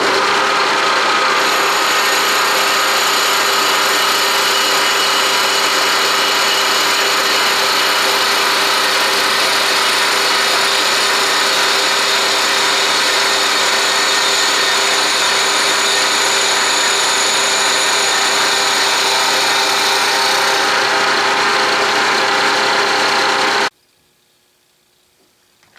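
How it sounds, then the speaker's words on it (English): Dovetail cutter milling the final depth on a lathe taper attachment part, a loud steady high-pitched machining whine with continuous cutting noise, unbroken for over twenty seconds before stopping abruptly. "now the final 9 thousandths in depth with the dovetail cutter should bring it to the final dimension depth-wise"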